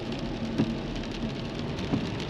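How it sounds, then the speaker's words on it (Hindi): Steady rain falls throughout a drive along a narrow single-lane highway, a dense constant hiss with a few faint knocks, no voices. "बारिश चल रही है और हमारा सफ़र चल रहा है"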